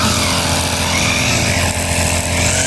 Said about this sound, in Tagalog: ayan na yung nag-grass cutter po niya